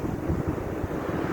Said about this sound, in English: Planes are taking off that way.